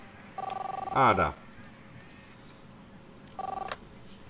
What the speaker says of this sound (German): answer the phone, please